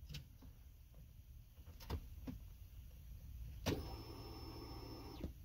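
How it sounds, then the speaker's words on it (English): A car's electric fuel pump hums faintly for a few seconds after the key is turned on, with a low steady whine and a few clicks, heard close inside the quiet vehicle. "if you could hear that, then more than likely that fuel pump is working"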